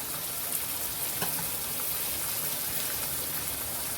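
Stale chapati crumbs with chilli kharda sautéing in a hot pan give a steady, close, soft sizzle with faint scraping stirs throughout, no voices.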